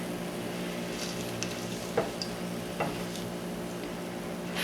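Potato latkes frying in a pan, a steady close sizzle with a couple of faint ticks and pops, no talk.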